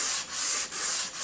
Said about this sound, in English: just good old-fashioned hand sanding.